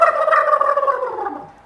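A human voice imitates a turkey gobbling, one loud, close, warbling gobble that slides downward and trails off after a second and a half.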